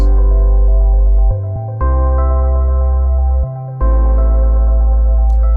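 A loud, sustained low synth bass steps through a few notes, dipping briefly between phrases as the line moves up, with no other voices.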